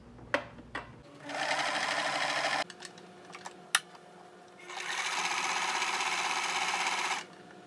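A sewing machine stitches a cotton and silk scrunchie in two close, steady bursts of whirring, separated by a pause with a few sharp clicks and knocks.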